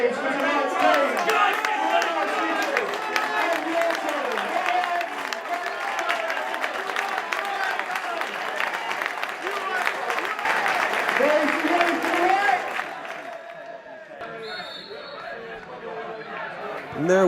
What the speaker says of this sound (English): Big cheer please for tonight's game.